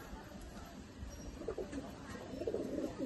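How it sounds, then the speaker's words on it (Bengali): Pigeons from a prized fancy collection coo softly in low repeated murmurs, growing a little fuller toward the end over steady background noise. "দারুণ পায়রা"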